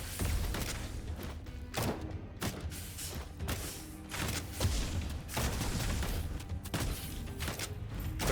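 Repeated heavy shotgun blasts in quick succession in the video game Shape of Dreams, dense and booming, with mechanical clatter between shots and no talking.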